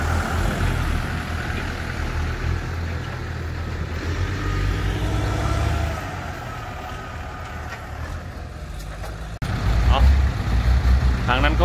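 A ten-wheeler truck rumbles past beside a dump truck site, a heavy low engine drone that shifts partway through and surges again near the end, under ongoing talk.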